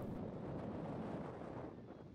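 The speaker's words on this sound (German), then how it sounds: "Heute ist es etwas sehr windig." Strong wind buffets the microphone beside the Limfjord in Aalborg, Denmark, a steady broadband roar with gusty surges that holds throughout and eases a little near the end, with no talking.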